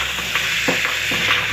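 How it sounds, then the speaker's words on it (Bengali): Boiled potatoes stirred into a prawn and cauliflower curry in a hot pan, with a steady sizzle under repeated scraping strokes of the spoon, close and loud. "সেদ্ধ করে রাখা আমার আলুগুলো এর মধ্যে আমি একটা করে রেখে দেবো এবং ভালো করে নেড়ে নেব"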